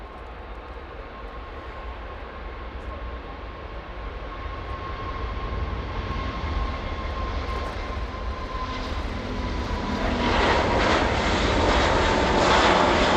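A jet airliner at Manchester Airport rumbles steadily and grows louder over about thirteen seconds, its engine roar swelling and brightening toward the end as it draws nearer.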